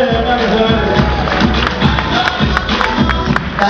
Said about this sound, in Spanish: Aplausos a ustedes, acá que se ven.